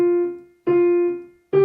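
Piano notes played marcato, each strongly struck and held a little longer before fading, about three notes, close and solo.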